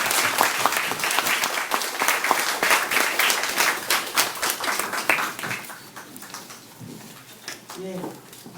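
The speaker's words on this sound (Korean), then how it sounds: "큰 박수로 부탁드립니다." An audience at a solidarity concert gives loud, sustained applause that gradually thins out, with a voice speaking over the tail end.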